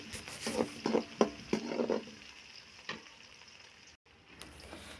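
Dried red chillies fry in a pan while being stirred, giving a crackling sizzle and a burst of quick scraping clatters close by that fades to a quieter sizzle.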